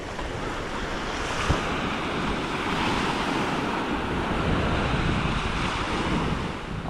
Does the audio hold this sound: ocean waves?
yes